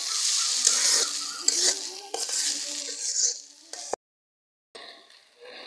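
Dal with okra being stirred and fried in a pan, a bright steady sizzle with scraping spoon strokes and a few clinks, then a sudden cut to silence before a quieter sizzle returns.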